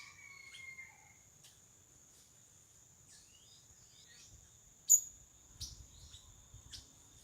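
Birds of many kinds calling at a rural smallholding in Rondônia: faint, scattered chirps and short tweets over a steady high insect-like whine, with a few sharper calls standing out, all distant and quiet.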